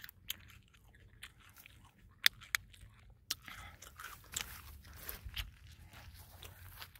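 Close, crunchy bites and chewing of small golden-yellow dates picked in a Saudi Arabian date orchard, with sharp crackling bites and moist mastication noises and no talk over them.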